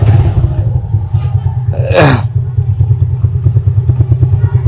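A motorcycle rumbles nearby, its engine revving up with a rising whine as it rides off, then settles into a steady chugging beat.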